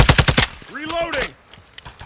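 Gunfire in Call of Duty: Modern Warfare II, a fast loud burst of automatic shots followed by a swooping whistle-like effect and a few scattered later shots.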